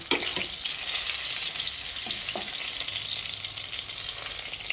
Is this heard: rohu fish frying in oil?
yes